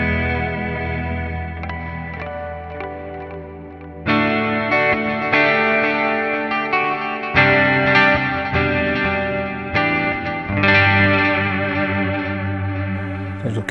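Steinberger Spirit GT-PRO Deluxe electric guitar played through its neck humbucker with a chorus effect, loud sustained chords and picked notes over about fourteen seconds with no talking.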